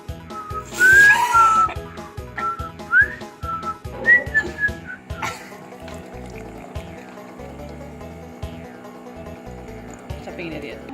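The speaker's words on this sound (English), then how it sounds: "I can't whistle like that." A person whistles several short rising and sliding notes near the start, then the whistling fades out over a steady rhythmic background tone, with voices around it.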